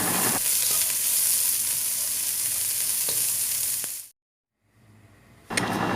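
Green beans fry in hot oil in a pan, a loud steady sizzle with faint stirring clicks that cuts out abruptly for about a second, then returns.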